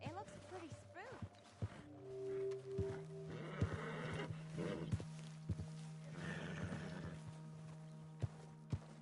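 Horse whinnying in Red Dead Redemption 2, a spooked nag giving a few neighs and snorts with clip-clop hooves nearby, mixed with game ambience and someone talking over it.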